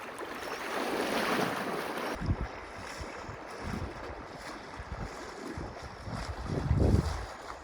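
A wide, shallow river flows past a wild campsite, a steady broadband rush with wind buffeting the microphone in the first couple of seconds.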